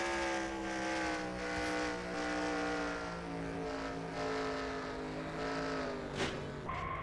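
Onboard engine sound of a stock car in a racing video game at Atlanta, a loud sustained droning engine note holding nearly steady pitch, with a brief bump and scrape near the end, close and continuous, with no talking.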